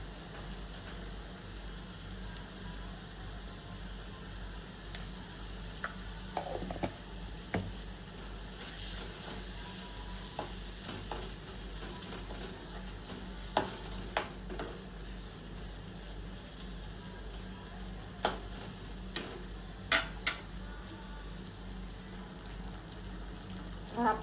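Chopped tomato with a little salt sizzling and frying in a pan for palak bhaji, a steady low crackle with occasional sharp clicks of stirring.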